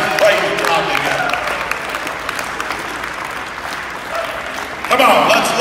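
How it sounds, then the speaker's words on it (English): Church congregation clapping hands together during a worship service, a steady dense wash of applause that swells louder near the end, with voices mixed in. "All stand with me. Let's clap our hands."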